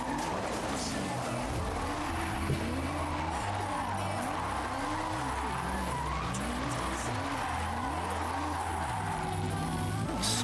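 Car drifting sideways in Forza Horizon 6, engine note rising and falling in repeated arcs through the gears while tires squeal continuously under it, loud and steady throughout with no talking.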